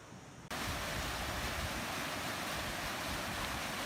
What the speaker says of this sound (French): Je longe enfin le cours d'eau qui coule à travers la roche.